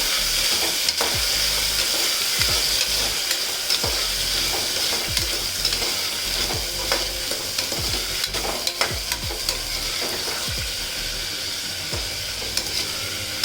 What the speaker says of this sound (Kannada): ಈಗ ಇದನ್ನು ಚೆನ್ನಾಗಿ ಫ್ರೈ ಮಾಡ್ಕೊಳ್ಳೋಣ ಒಂದು ಸ್ವಲ್ಪ